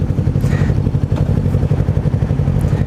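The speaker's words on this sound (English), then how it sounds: "Hear how the Ninja 400 with the full Akrapovic exhaust sounds." A Kawasaki Ninja 400 motorcycle with a full Akrapovic exhaust idles nearby with a deep, throbbing, uneven exhaust burble that holds steady throughout.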